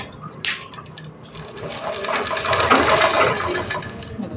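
A sewing machine stitches a blouse lining in a tailoring shop, its close mechanical whirring and rattling swelling louder and steadier over the few seconds.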